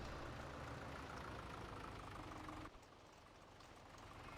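John Deere tractor engine in Farming Simulator 17 running steady and loud under hydraulic bucket load, a continuous low heavy drone that drops abruptly partway through and then settles into a quieter hum.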